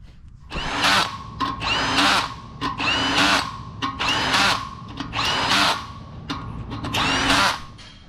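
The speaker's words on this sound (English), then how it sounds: "you just set it to your power gauge, whatever you want, and that way every single one of your bolts are equally tight" A power tool set to a torque gauge drives bolts in six bursts of about a second each, whirring loudly up close with short gaps between them and no speech.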